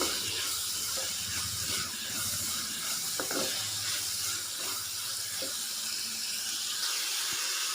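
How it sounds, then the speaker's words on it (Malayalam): Onions being sautéed in a pan for a Malayalam papaya mezhukkuvaratti, giving a steady hissing sizzle with faint scraping all the way through, with no voices. "നന്നായിട്ടൊന്ന് വഴറ്റി കൊടുക്കാം. സവാള ഒന്ന് ചെറുതായിട്ടൊന്ന് വാടി വന്നോട്ടെ."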